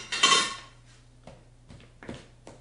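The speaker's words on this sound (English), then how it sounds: "I'm cutting the shortening in, and what I'm using is called a pastry blender" A pastry blender clinks against a bowl while cutting shortening into flour for scones, with one louder scrape and clatter at first, then several lighter scattered taps.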